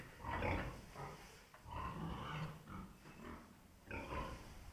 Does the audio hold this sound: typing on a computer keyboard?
no